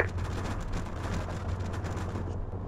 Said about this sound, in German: Großkaliberbeschuss!